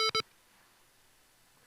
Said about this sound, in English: Another 2 beeps for another space.